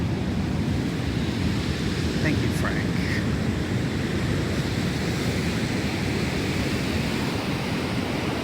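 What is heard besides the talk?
Pacific Ocean waves on the beach in Oaxaca, Mexico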